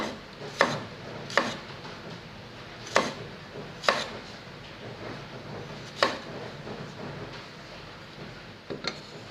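A knife thinly slicing garlic against a board in sparse, irregular sharp chops, with quiet pauses between them.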